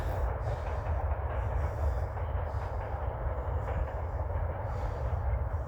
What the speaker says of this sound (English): There's a train going past the castle and past the cathedral.